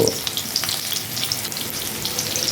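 Green chillies and mango pieces frying in hot oil while being stirred, a steady close sizzle with soft scraping from the spoon throughout and no talk.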